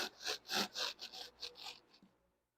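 Hand saw cutting through material in a car buck, about seven rhythmic rasping strokes, close and fairly quiet, slowing and fading out at the end.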